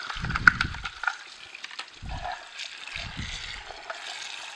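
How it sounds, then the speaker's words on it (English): Water runs and splashes through a part of a Sana EUJ-808 juicer during rinsing, a close, soft hiss of flowing water with a few low gurgling bursts, no voices. "then you can just run some water through there"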